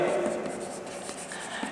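Marker or chalk strokes scratching across a board in a short continuous burst, close and clear, with faint background room tone.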